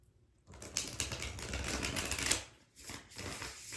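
A tarot deck is riffled and shuffled in quick rustling bursts, with a short pause before another brisk shuffle, close up and alone.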